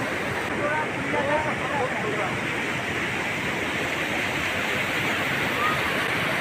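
Water flows down over rocks near Chhindwara, making a loud, steady broadband rush that fills the whole stretch without pause.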